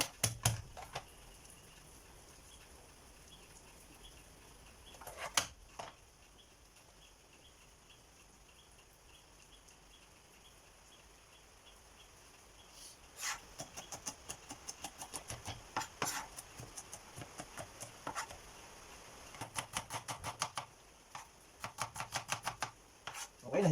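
A knife chops garlic on a cutting board for ginisang kalabasa with shrimp, giving bursts of rapid, sharp taps in clustered runs with pauses between, close and fairly crisp against a quiet kitchen background.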